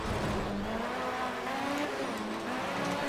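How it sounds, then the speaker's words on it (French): A Ford Mustang GT accelerating hard in the Project Cars racing game, a loud continuous engine roar with rising pitch that holds steady for about three seconds with no voices. "Ça accélère très très fort."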